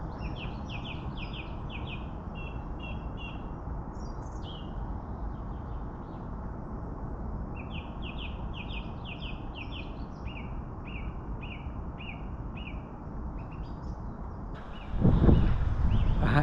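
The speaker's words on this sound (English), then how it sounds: "Listen to this bird. I know birdie song's nice, I know. But this bird, it's on one, it's going crazy." Songbird singing repeatedly and loudly at a disused canal lock, bright twittering phrases in bursts over steady wind noise outdoors, with a brief rustle near the end.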